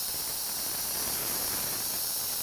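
A spray gun lays down Createx Inter Coat clear in one continuous, even hiss of atomized spray, steady and close throughout with no pauses or talking.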